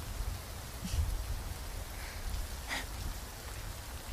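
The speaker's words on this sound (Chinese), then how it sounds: "我没想到今天会下雨。" Rain falls steadily as a faint, even hiss with a few sharper drips and taps on nearby surfaces, continuous throughout and without voices.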